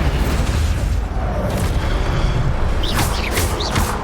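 A fire spell cast in the Hogwarts Legacy video game bursts out as a loud, dense whoosh and boom under steady game ambience, with brief bright crackling flares near the end.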